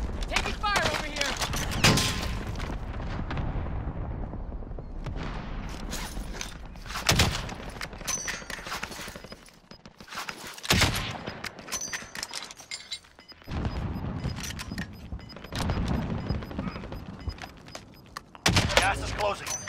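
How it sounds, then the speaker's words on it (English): Rapid bursts of automatic gunfire and heavy shots ring out in a Call of Duty: Modern Warfare Warzone battle royale quads match on PS4, loud and nearly continuous with short lulls, mixed with in-game voice callouts. "Taking fire over here!"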